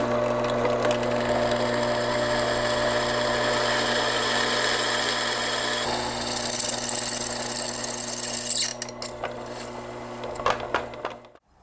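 A drill runs steadily while boring holes through an 80CRV2 steel knife blank in a workshop, a constant close mechanical whine and hum that shifts pitch as the bit cuts, then winds down with clicks.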